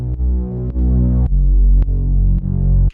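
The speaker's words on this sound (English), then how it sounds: "it's this Growler Moog bass in Atmosphere 2" Growler Moog synth bass played in Atmosphere 2 through a shaper for a sidechain pumping effect plus panning: a loud, deep sustained tone that ducks and swells in a steady throbbing rhythm, heard alone.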